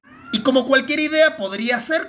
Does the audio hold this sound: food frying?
no